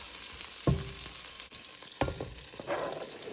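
Butter and chopped vegetables sizzle in a pan at close range, a steady frying hiss broken by a few sharp clinks and stirring knocks.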